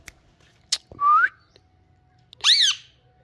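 A pet parrot whistling nearby, giving two loud, clear whistles: a short rising note and then a sharper arched whistle, each alone against a quiet background with a few faint clicks.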